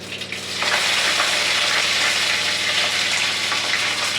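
Garlic and curry leaves sizzle in hot oil during tempering, with mustard seeds and cumin already added; a loud, steady frying hiss that jumps up about half a second in and holds close and continuous, with no voices.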